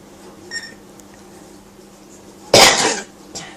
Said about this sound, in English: Mummy just coughed.